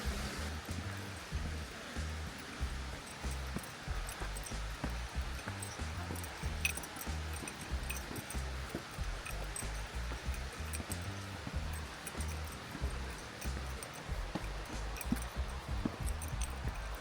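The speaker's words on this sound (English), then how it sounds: "Little hot spring streams running down the rocks as well." Small hot spring streams trickle and splash down rocks in a Japanese onsen town, a soft continuous babbling with scattered droplet ticks, fairly quiet and without talk.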